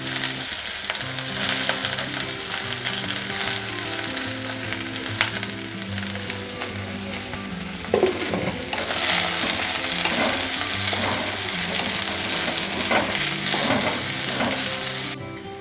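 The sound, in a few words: onion frying in hot coconut oil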